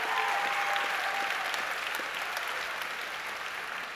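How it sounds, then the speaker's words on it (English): Audience applause fills the hall at a high school spring choir concert, a steady dense wash of clapping that holds alone for several seconds and fades only slightly. "Can we give a round of applause to all of our choir"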